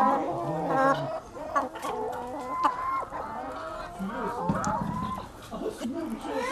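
Chickens and a rooster cluck repeatedly in a coop in Karadeniz Ereğli, with overlapping calls and a gurgling quality, close by, while people talk in the background.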